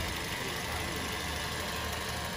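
A 2011 Toyota Vios with a 1.5 engine idles smoothly, a steady low hum with even, unbroken vibration and no talk over it.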